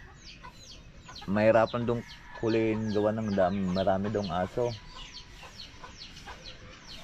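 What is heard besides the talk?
chicken clucking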